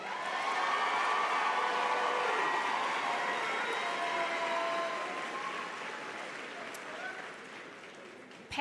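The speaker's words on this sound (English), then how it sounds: "Please give a round of applause for our valedictorians" Graduation-ceremony applause for the valedictorians of the Firestone CLC Class of 2026, a broad, steady crowd clapping that slowly fades toward the end.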